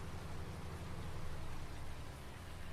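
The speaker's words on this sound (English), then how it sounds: "Oh no, the rain's here." Steady rain falls in the Farming Simulator 19 video game, a dense, even hiss of downpour that stays at constant loudness throughout without any talk.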